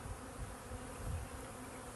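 Honey bees buzz steadily inside a freshly split hive holding nurse bees, a faint, even drone with no voices.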